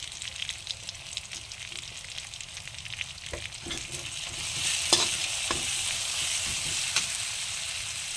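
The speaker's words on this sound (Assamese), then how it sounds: "মই অকণমান দেৰি ফ্ৰাই কৰি লৈছোঁ আৰু ইয়াত মই এতিয়া এটা এটাকৈ মছলা দিম" Spices sizzle steadily in a hot pan with oil for a taro leaf curry, with occasional sharp spatters and scraping stirs rising over the continuous frying hiss, heard close up.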